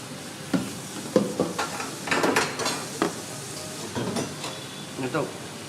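Rice vermicelli being stir-fried for bihun goreng in a pan with celery, a utensil scraping and clattering against the metal in irregular bursts over a soft, steady sizzle, with faint voices in the background.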